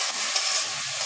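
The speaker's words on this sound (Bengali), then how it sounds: "এরপরে ক্যাপসিকাম আর আলুগুলো এবার দিয়ে দেবে। নাও ভালো করে কষো।" Spices, capsicum and potatoes fry in a pan with a loud, steady sizzle and hiss, close up, with no voices over it.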